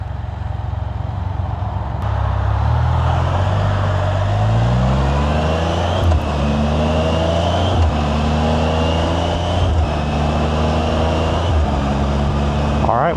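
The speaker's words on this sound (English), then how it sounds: "the Can-Am appears to be shifting normal, just like when we dropped it off" A Can-Am Spyder RT Limited engine revs up and drops through several gear shifts while riding, a loud close continuous drone with rising pitch sweeps, heavy wind noise and low talk beneath.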